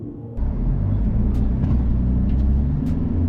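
An MG U9 pickup accelerates hard off the line in a drag race, its engine rising abruptly into a loud, sustained low rumble, with a few sharp clicks over it.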